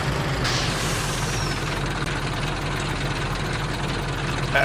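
Heavy truck in Farming Simulator 22 idling with a low steady engine rumble, a hissing air-brake release near the start, close and continuous.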